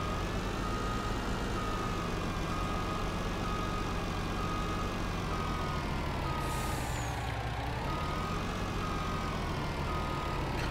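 A farm truck parks in Farming Simulator 19, its engine droning steadily and loudly throughout while it maneuvers, with a short hiss of air brakes about two-thirds of the way through.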